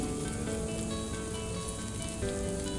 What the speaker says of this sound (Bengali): তেলটা গরম হয়েছে কিনা অল্প একটু ব্যাটার দিয়ে দেখে নেব